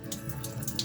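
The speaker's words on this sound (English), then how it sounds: "Just wash them once." Fresh coriander leaves are rinsed under a running kitchen tap, giving a steady close splashing with small rises as the leaves are moved through the stream.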